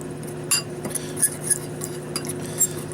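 A fork clinks against a pan in light, irregular taps, about six sharp metallic ticks spread over a few seconds, close up with a low hum behind.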